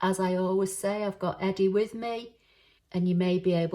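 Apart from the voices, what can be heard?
No everyday noises stand out.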